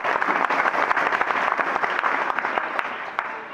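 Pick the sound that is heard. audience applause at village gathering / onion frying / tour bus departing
audience applause at village gathering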